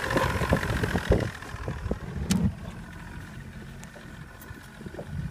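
A Maxum 1700 boat's outboard engine idles in a steady, moderately loud, low rumble, slightly rougher at the start and then evening out, with a brief clank in the middle.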